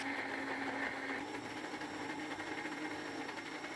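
Electric blender grinding a spice paste with a little water for Padang-style fish head curry, a steady, continuous whirring motor drone with a high, busy whine, running at an even level throughout without talk.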